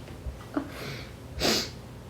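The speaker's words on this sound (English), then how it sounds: "I got the sniffles" A person with the sniffles sniffs sharply through the nose, one brief sniff followed by a longer, louder breathy snuffle, close and alone.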